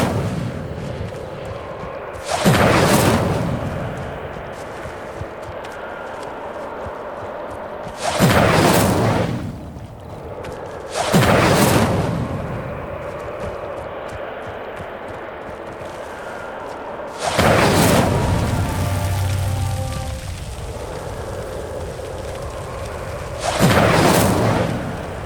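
Fiery spell bursts from Incendio lighting pyres in a video game, five loud whooshing booms at irregular intervals over a steady ambient background, each swelling briefly and fading.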